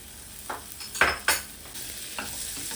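Prawns stirred into sizzling masala in a pan, with a few scraping spoon strokes over a steady low fry hiss.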